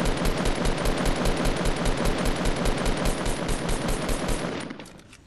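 Rapid automatic gunfire in the video game Fortnite rattles out in a long, loud, evenly paced burst, then tapers off and stops just before the end.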